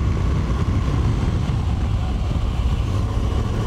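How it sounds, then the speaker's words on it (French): Steady, loud rumble and wind roar from a Moto Guzzi V85TT motorcycle being ridden during a braking test, a continuous dense drone with no clear change in pitch. "Allez, on va essayer un petit freinage."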